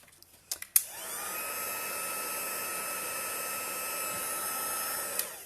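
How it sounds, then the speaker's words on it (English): Heat embossing tool blowing hot air for a papercraft Christmas decoration: a few small clicks and taps, then a steady, fairly quiet whirring blast that holds evenly for several seconds before a brief click near the end. "Is warm before you start heat embossing this."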